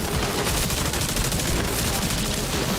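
Dense, sustained gunfire in the space game Star Citizen, many rapid shots overlapping into a continuous fusillade that stays loud and close throughout.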